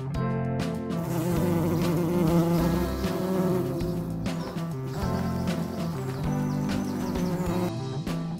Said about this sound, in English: F for fly.